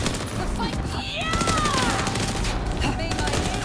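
Video game machine gun fire rattles continuously in dense bursts throughout, loud and close, blended with other game effects and voices.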